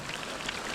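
Pouring rain falls steadily on a Poconos fishing outing, a soft, even patter and hiss with scattered drop taps throughout, moderately quiet and uninterrupted.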